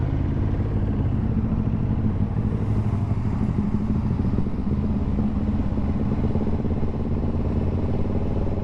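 A Honda CB750 Hornet motorcycle being ridden, its engine a loud continuous rumble close to the rider, with shifts through the gears blended into a constant roar.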